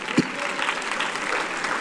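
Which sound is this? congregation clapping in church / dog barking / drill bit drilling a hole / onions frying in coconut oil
congregation clapping in church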